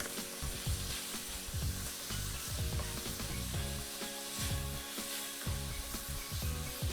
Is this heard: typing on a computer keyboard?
no